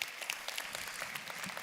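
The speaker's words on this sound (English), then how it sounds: "Yeah, you can applaud for that. That's worth applauding for." An audience claps and applauds steadily, a dense wash of many hands at moderate distance.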